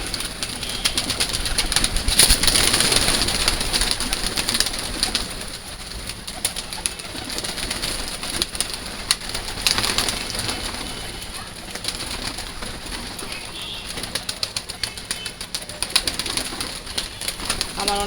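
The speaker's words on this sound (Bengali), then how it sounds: "আমার অনেক শখের কবুতর এগুলা" Pet pigeons coo softly and repeatedly while being fed, with nearby rustling, light pecking and faint flutters over a steady outdoor background.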